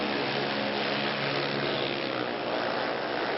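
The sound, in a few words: drag racing cars launching down the strip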